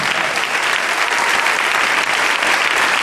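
Church congregation applauding during a sermon, dense sustained clapping from a large crowd, loud and even throughout with no break.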